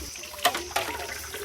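Cold water splashing from a bucket during an outdoor bath, two sharp splashes about a third of a second apart followed by softer running water, close by and with no talking.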